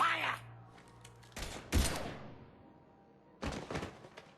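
Short bursts of gunfire in the Mass Effect 3 video game, two rapid volleys of sharp shots with a pause between, after a brief spoken line.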